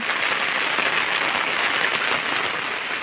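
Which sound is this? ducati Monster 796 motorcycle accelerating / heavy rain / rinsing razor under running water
heavy rain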